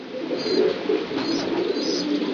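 Racing pigeons cooing steadily in a loft, several low rolling coos overlapping in a continuous chorus, close by and moderately loud.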